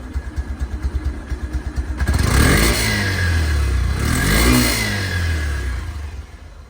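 A second-hand motorcycle engine idles with a rhythmic putter, then revs up loudly and holds a rising, falling roar close by.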